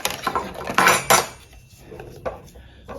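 Spatulas and other kitchen utensils rattle and clatter in a drawer, a close, busy jangle of metal and wood that swells twice and then trails off into a few lighter knocks.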